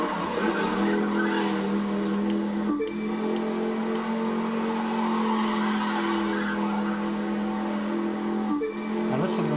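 A car from the video game The Crew 2 under constant acceleration, a steady sustained engine drone with tire noise, loud and unbroken apart from two brief dips, with no talk.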